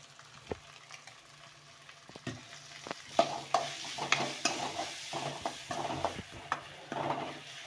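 Ground soya mixture sautéed in a pan for soya cutlets sizzles softly while a spoon stirs and scrapes it in repeated, uneven strokes close by.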